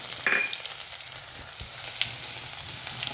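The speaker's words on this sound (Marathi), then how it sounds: "आता याच्यामध्ये आपण जिरे टाकणार आहोत।" Cumin seeds and garlic dropped into hot oil with mustard seeds for spicy fenugreek gram-flour curry, a close, bright crackling sizzle with a sharp burst at the start and light stirring scrapes.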